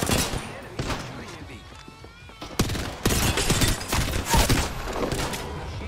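Shotgun blasts in Apex Legends ring out as sharp, loud bursts amid rapid gunfire, with a voice talking over the action.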